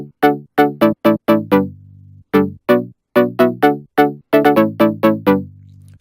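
A MIDI chord progression plays with a plain default synth tone, in short plucked stabs in a bouncy rhythm with a few held bass notes, clean and dry with no talk.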